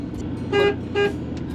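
A car horn gives two short toots in quick succession over a low engine rumble.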